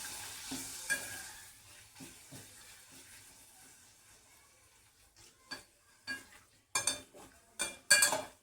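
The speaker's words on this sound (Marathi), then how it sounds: "अशा प्रकारे 1-2 पापड मी तळून घेते." Urad dal papad frying in hot oil in a home kitchen, with a low steady sizzle and several sharp bursts of crackling and clattering utensil sounds that grow louder and busier toward the end.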